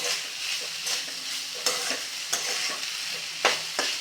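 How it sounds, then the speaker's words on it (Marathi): A spoon stirs cooked rice with sugar in a pan, scraping in a loose rhythm of soft strokes with a few sharper knocks against the pot, close by, faint, and with no voices. "मिक्स करून घ्यायची आहे साखर आणि साखर संपूर्णपणे ह्यामध्ये आपल्याला विरघळवून घ्यायची आहे"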